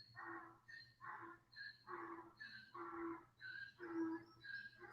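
A dog barks repeatedly at a distance, in rhythmic bursts roughly every half second, faint and carrying over a low steady hum.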